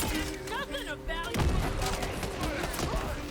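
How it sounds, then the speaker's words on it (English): Mortar fire explosions in the video game Tiny Tina's Wonderlands, a burst of booming blasts and rattling gunfire after a character's voice line, with dense battle noise continuing. "Where's the mortar fire coming from?"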